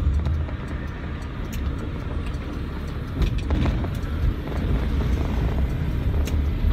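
Suzuki Katana on HT tyres driving along an asphalt road, a steady, fairly quiet low rumble of road and engine noise from inside the cabin, with no talking.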